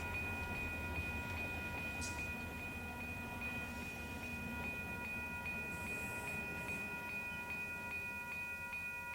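A train rolls through a railroad crossing in the Run8 Train Simulator game, a steady low rumble with the crossing bell ringing in a regular rhythm throughout, no talking.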